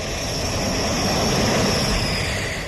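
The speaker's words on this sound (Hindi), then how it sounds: "भारतीय वायुसेना के अंबाला एयरबेस पर दोपहर 3:10 के आसपास एक एक कर 5 राफेल ने गगनचुंबी इरादों के साथ भारत की मिट्टी" Rafale fighter jets arriving at Ambala airbase in India, a loud, steady broadband jet roar with a high whine that holds without break, close and constant, no voices.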